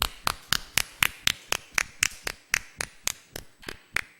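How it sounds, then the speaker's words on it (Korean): A church congregation claps together during a Sunday worship service, about sixteen sharp, evenly spaced claps in a steady rhythm, loud and close, with no talking. "우리 박수로 우리의 크게 영광을 올려드립니다."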